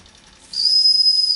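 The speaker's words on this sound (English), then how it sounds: "Oh, we can even make it do a little whistle." After a soft quiet hiss, a small steam whistle starts up sharply and holds a thin, high, steady tone with a breathy edge.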